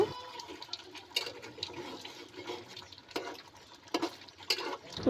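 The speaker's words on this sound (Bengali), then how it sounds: "তরকারিটাকে ভালোভাবে নেড়ে চেড়ে দিব" Chicken curry is stirred in a pot, with wet squelching scrapes and soft clinks of the spoon against the pot coming in uneven bursts, close and fairly quiet, no speech.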